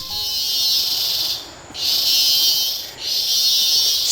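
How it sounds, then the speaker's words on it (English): Loud, dense cicada buzzing fills the humid jungle air near La Catedral Waterfall, Costa Rica, in sustained waves, dipping briefly twice before surging back, with no voices. "the cicadas were so forceful about their presence"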